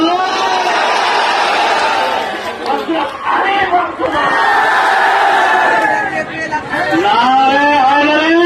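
A large crowd in Bengal shouts provocative slogans, a loud dense mass of chanting and yelling voices that swells and dips briefly before surging again.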